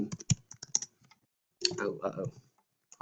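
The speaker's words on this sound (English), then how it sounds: "Sorry for the keyboard clicks." Computer keyboard clicks as someone types quickly, sharp close-up taps in bursts, followed by a short stretch of talking and a few more keystrokes at the end.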